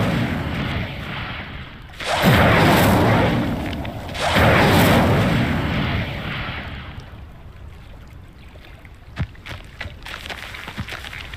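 Incendio fire spell cast in Hogwarts Legacy, two loud whooshing, roaring bursts of flame about two seconds apart, each lasting a couple of seconds, followed by quieter crackles and small impacts.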